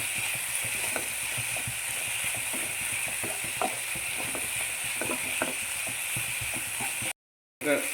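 Spinach (palak) leaves sautéing in a hot pan for dal palak, a steady close sizzle with scattered stirring clicks throughout, briefly cutting out near the end.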